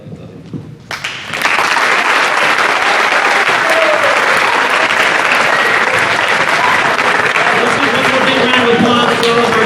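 Loud, dense applause and cheering from a large crowd at a high school senior pep rally, honoring dads and senior students; it swells up after a quiet second and holds steady and close to the end, with voices mixed in.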